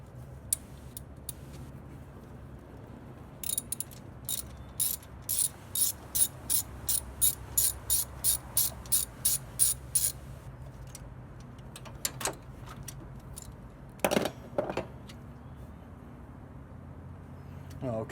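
Ratchet wrench loosening the 10 mm nut on a Toyota alternator, a run of about fifteen quick, evenly spaced clicks close up, with a few scattered clicks and clanks of metal on metal before and after.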